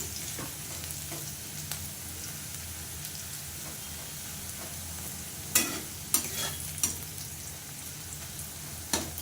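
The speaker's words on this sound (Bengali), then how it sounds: "দেখো পেঁয়াজটা ভাজা হয়ে গেছে আমার" Onions frying in a pan, a steady loud sizzle with a few sharp scrapes and clacks of stirring in the second half.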